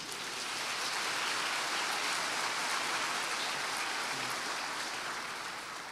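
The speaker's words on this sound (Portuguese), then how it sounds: "Você pode dar um aplauso a ele?" Sustained applause from a church congregation, a dense even wash of many hands clapping throughout, steady and fairly loud with no voices over it.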